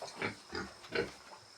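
Several pigs on a piggery farm grunt in short bursts, a few low oinks spaced about every third of a second, fairly close against quiet background noise with no talking.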